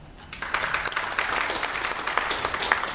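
Audience clapping at a university zoology department conference, starting abruptly after a brief quiet moment and continuing as steady, dense applause from a group, fairly loud with no talking.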